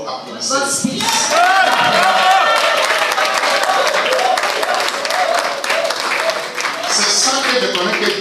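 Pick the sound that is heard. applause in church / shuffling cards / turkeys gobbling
applause in church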